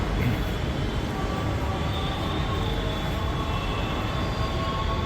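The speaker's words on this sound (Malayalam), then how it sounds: "ഇതാണ് ബാംഗ്ലൂർ മെട്രോ കേട്ടോ." A Bangalore metro train rumbles loud and steady at a platform, with a continuous roar and faint high wheel squeal over it.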